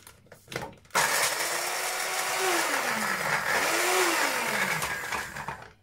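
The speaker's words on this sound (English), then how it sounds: "I'm just going to blend this first a little bit." A blender starts abruptly and runs loudly and steadily blending soaked almonds, its motor pitch wavering as the contents churn, then winds down near the end.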